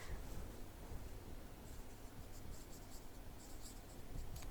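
Chalk or marker scratches a board as a fraction is written in a grade 2 maths lesson, faint short strokes over a quiet, steady background hiss with no talking.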